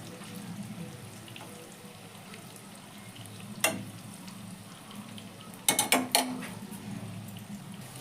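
Chicken malai kofta balls fry in oil in a pan with a faint, steady sizzle, broken by a sharp clink near the middle and a quick cluster of clinks toward the end.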